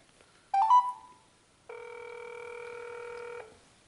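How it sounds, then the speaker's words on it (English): A brand-new cell phone dials with a short burst of key tones, then after a brief pause a steady electronic ring tone sounds for nearly two seconds, close and clear with no talking. "Should probably try calling him with my brand new cell phone."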